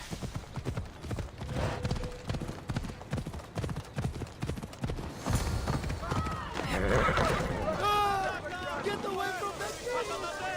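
A horse's hooves clip-clop in an ancient Greek setting in the video game Assassin's Creed Odyssey, a steady trotting rhythm of hoof beats, followed by louder snorting and whinnying calls.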